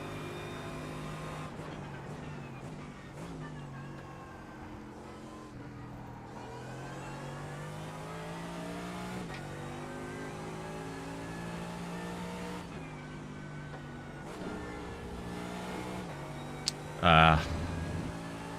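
A Mercedes race car engine at Monza in the iRacing simulator drones steadily throughout, with harmonic pitch rising and falling through gear changes and a brief sharp burst near the end; a person talks over it.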